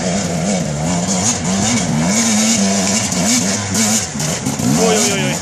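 Enduro motorcycle engine at a World Enduro Championship round in Solsona, revving steadily with rising and falling pitch throughout, loud and close, with people talking over it.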